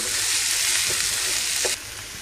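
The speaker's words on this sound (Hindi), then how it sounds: "इन सबको अच्छे तरीके से भून लेंगे।" Bell pepper and French beans stir-fry in hot oil for a Chinese dragon roll filling, a loud, close, continuous hiss that drops abruptly in intensity near the end.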